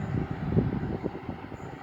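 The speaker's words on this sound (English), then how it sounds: "First time I've ever seen a Freightliner 59" A Freightliner class 59 diesel, number 59206, hauls a freight train past at close range near Sonning Road overbridge, giving a steady, loud low rumble of engine and rolling wagons that holds throughout with no voices.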